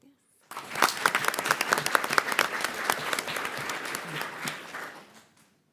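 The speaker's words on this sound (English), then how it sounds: "Let's give these young, successful people one more round of applause" Applause for students at a school board meeting, a room of hands clapping that starts abruptly, holds steady for several seconds with crisp individual claps, then tapers off near the end.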